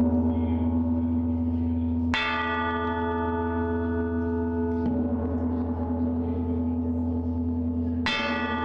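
Peace bells ring out at a ceremony in Bahrain honouring peace, loud resonant bell strikes struck about every three seconds, each long humming tone overlapping the decay of the last.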